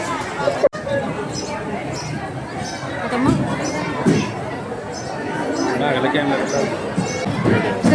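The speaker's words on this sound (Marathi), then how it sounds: "गर्दी बघा की पूर्ण अशी गर्दी आहे बघा" A dense crowd queuing at a temple makes a steady babble of overlapping voices, with nearby chatter and shuffling throughout and a sharp knock early on.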